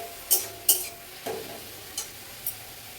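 Okra frying in a pan while being stirred: a soft, low sizzle runs underneath, broken by five sharp, scattered clicks of a spatula scraping and tapping the pan, with no talk.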